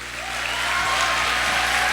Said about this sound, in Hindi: तालियां एक बार फिर से।